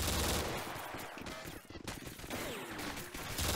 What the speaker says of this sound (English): there's like three people shooting at you right now